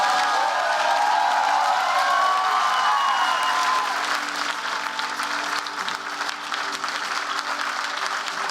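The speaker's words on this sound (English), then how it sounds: "let's give a big round of applause to our Excel graduates" Sustained, loud applause from a large crowd greets program graduates at a spring bachelor's commencement ceremony, then thins slightly toward the end.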